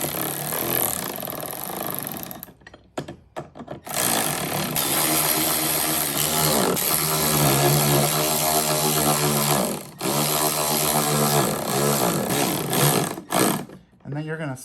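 A Milwaukee power tool runs in sustained loud bursts while tightening a PACKOUT system mod, with brief pauses and restarts, under background talk.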